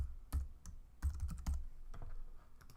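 Fingers tapping on a computer keyboard, a few irregular close clicks and clacks spread over a couple of seconds, quiet and with no talking.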